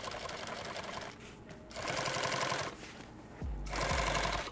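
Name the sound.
sewing machine stitching a kit bag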